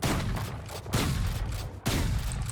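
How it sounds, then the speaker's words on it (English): Bucky shotgun in Valorant fired on the run: three heavy blasts at roughly one-second intervals, each a sharp close boom, with a constant noisy game backdrop between shots. "The Bucky is the perfect weapon to run and gun, like a madman."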